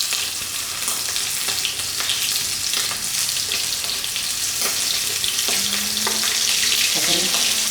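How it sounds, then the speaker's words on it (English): Prawns fry in hot oil with a dense, steady sizzle and crackle, scattered pops and spatters, and brief tool clatter near the end, with no talk. "Okay, we're placing the prawns into the hot oil."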